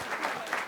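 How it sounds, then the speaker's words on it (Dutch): A brief burst of clapping from a small audience at a regional sports and entrepreneur awards registration in Noord-Friesland, dense and close. "Dat is echt wel een applaus waard, hè?"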